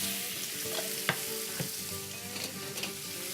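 Pork frying in a hot pan with toasted sesame oil gives a steady crackling sizzle, broken by several sharp clacks as the meat is pushed and spread around, with no voices.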